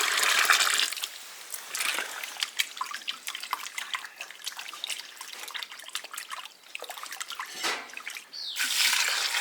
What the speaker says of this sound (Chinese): 加清水，把它洗干净。